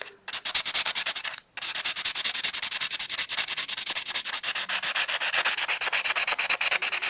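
Hand sanding of a tiger eye stone pendant, a close, steady stream of quick back-and-forth rubbing strokes with one brief pause near the start, no talking.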